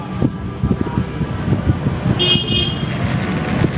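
A Yamaha Nmax scooter engine runs after a restart with a low, uneven chugging, joined briefly midway by a higher tone.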